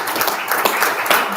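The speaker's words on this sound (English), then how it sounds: "give this man a round of applause" An audience at a real-estate workshop gives a man a round of applause, a dense wash of clapping from many hands that holds steady for over a second, with no talk over it.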